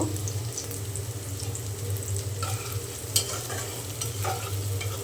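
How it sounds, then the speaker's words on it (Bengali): Onions fry and are stirred in a pan, a constant close sizzle with occasional clinks and scrapes of the utensil, with no voices. "এখন আমি পেঁয়াজ খুব ভালো করে ভেজে নেব"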